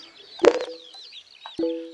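Clucking chickens in the Farming Simulator 22 video game, a few short close clucks and calls with a louder burst near the start and another toward the end, no talking.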